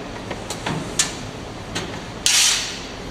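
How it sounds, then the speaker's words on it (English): A shovel scoops sand into a casting mold for aluminum screwdriver casting, with a few scattered scrapes and taps followed by a louder gritty pour of sand, nearby and without talk. "go ahead and shovel the sand actually shovel the sand right in"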